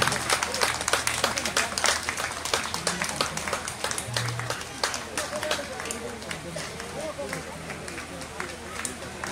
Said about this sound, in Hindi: तालियां काम नहीं होनी चाहिए, बजते रहने चाहिए।